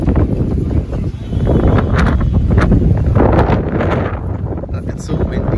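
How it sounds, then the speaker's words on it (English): Strong outdoor wind buffeting the microphone on a trip in India, loud, continuous gusty roar with rustling, and a voice heard faintly in the mix. "It's so windy."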